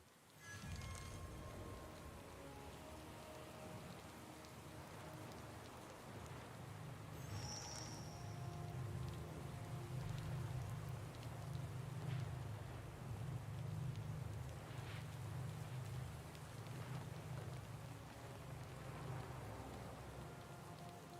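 Steady rain falls in the video game Pillars of Eternity 2: Deadfire, a continuous hiss of drops on surfaces with a low rumbling bed beneath, moderately loud and unbroken, with no voices.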